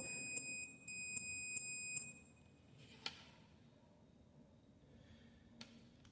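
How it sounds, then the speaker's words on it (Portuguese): A multimeter's continuity beeper sounds during a thermostat test on a water purifier, several short bright beeps in quick succession followed by a couple of fainter clicks and taps in a quiet room. "Teste de continuidade também. Tem que bipar."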